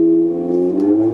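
Manual transmission car engine revving steadily, with a brief dip and rise in pitch during a gear shift, loud and close with no talking.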